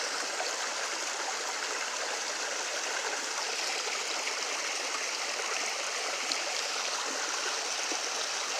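Water flowing in a park stream, a steady, even rush of bright babbling that fills the whole stretch at moderate volume, with no voices.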